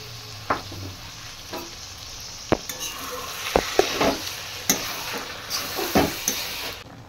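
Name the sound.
egg chicken tadka frying and being stirred on high flame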